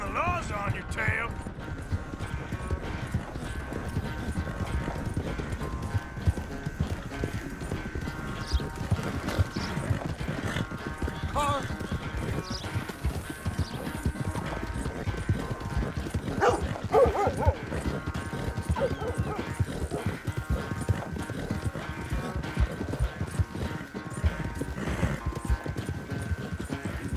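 Horse hooves galloping in Red Dead Redemption 2, a steady rapid clip-clop that runs the whole time, mixed with game ambience and intermittent talk.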